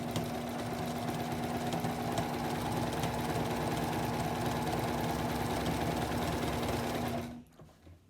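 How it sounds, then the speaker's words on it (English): A sewing machine runs a steady, continuous straight seam joining two quilt pieces, humming evenly for about seven seconds before stopping abruptly, with no talking. "we're going to sew straight down."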